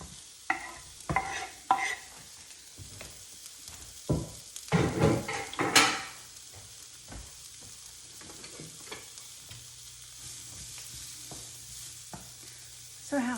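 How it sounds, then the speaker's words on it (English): Onions sweating in a small pan give a low, steady sizzle, under clusters of clanking and scraping from a utensil stirring against the pan, then a quieter, even frying hiss. "I'm just gonna sweat these onions a little."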